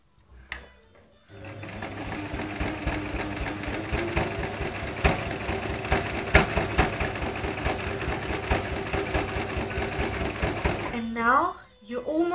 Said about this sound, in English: So you stitch on top of it, and once back stitch and forward, and you're ready.